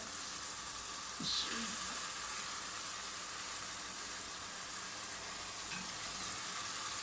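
Chicken frying in a pan gives a soft, steady sizzle and hiss, fairly quiet, with a brief louder burst and faint utensil scrapes early on, heard close without talk.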